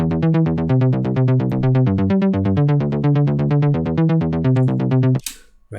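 A layered progressive house bass, EQ'd to thin out the low end and soften the treble, pulses in rapid even notes that shift between a few pitches, loud and unaccompanied, then cuts off sharply before a brief tail.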